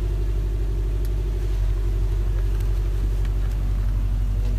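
A Subaru with a six-speed manual gearbox idling nearby, giving a steady, loud low rumble that holds constant throughout with no revving.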